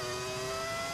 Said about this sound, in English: With the engine, though, like the engine sound, this is great.